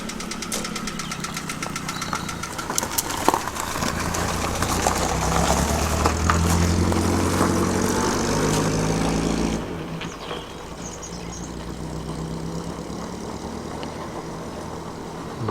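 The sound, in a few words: classic car engine running then driving off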